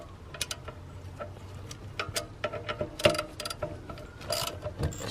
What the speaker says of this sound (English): So I'm removing the ECU, which is just one 10mm bolt right here.